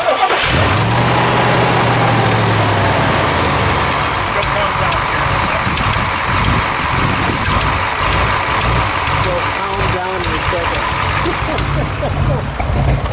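A fuel-injected 1963 Corvette split-window coupe cranks over and catches, then settles into a loud, steady, lumpy idle with slight revving, close by, with people talking over it.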